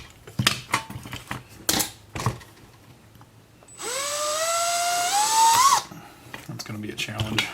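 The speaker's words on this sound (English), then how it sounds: "Plus I need to drill these bigger too." A power drill spins up with a rising whine for about two seconds, then stops, with handling clatter and knocks before and after, while enlarging holes during wiper repair on a 1988 Ford Thunderbird Turbo Coupe.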